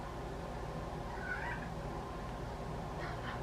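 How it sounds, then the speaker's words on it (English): A pet cat meows faintly from across the room, two brief distant calls almost buried under a steady background hum. "My cat's meowing."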